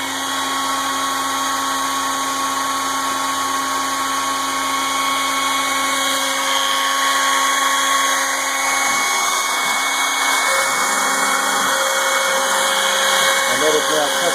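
ShapeOko CNC router spindle running and etching into material, a steady high-pitched whine with tonal hum that grows rougher partway through as cutting begins.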